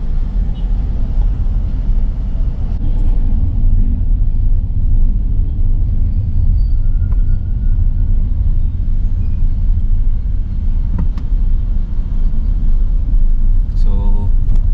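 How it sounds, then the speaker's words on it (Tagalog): Heavy, congested highway traffic on the South Luzon Expressway, heard from inside a DIY electric-conversion car: a constant loud low road rumble and tire noise lasting the whole stretch, with faint passing-vehicle swells and no talk over it. "Daan tayong highway pero sobrang traffic."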